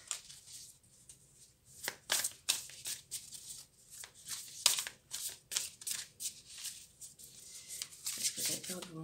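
Tarot-style cards are shuffled during a card reading, making quick crisp riffling bursts in irregular clusters, close and fairly quiet, with a soft voice faintly present between the bursts.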